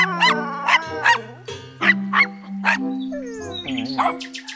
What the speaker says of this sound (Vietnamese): đây là một con chó rất là to lớn các bạn